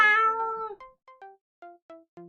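A cat in the Choices: Stories You Play game gives one long drawn-out meow, followed by a quick series of six short, clipped mews, clear and close with silence between them.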